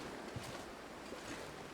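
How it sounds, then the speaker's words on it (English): Wind blowing in The Long Dark survival game, a steady low roar of gusting wind, broad and continuous, with no speech. "And it's so windy."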